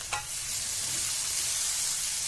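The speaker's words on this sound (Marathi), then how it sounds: "कांदा टोमॅटो चांगले गळू झाले तेव्हा ही भाजी घालायची आपली चिरलेली पालकाची भाजी घालून द्यायची" Chopped spinach frying with softened onion and tomato in a pan, opening with a brief stir or clink and then a continuous close sizzle with no speech.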